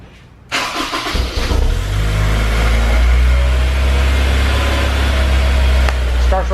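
A Honda S2000 fitted with a V6 engine cranks and fires after a brief quiet moment, then settles into a loud, steady idle with a low, rumbling drone that holds to the end.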